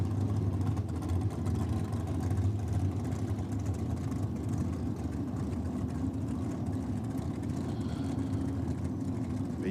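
A 400 cubic inch Chevy engine in a Topolino drag car doing a burnout at a drag racing championship: a thick, constant, aggressive engine roar that holds steady for the whole stretch, fairly close, with no talk.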